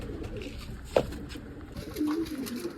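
Pigeons in a loft coo softly while being fed grain from a tray, one sharper call near the start and a low, wavering coo later, over a steady faint background murmur.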